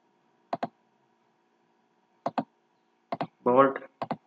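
A computer mouse clicks close up in a quiet room, giving a few crisp double clicks spaced apart, with a brief spoken word between the last pairs.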